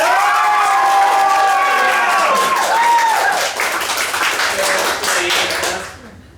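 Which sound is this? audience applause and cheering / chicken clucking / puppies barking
audience applause and cheering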